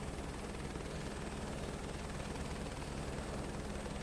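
A helicopter engine and rotor in Microsoft Flight Simulator 2024 give a steady, dense whine and roar that stays even and unbroken throughout, with no talk over it.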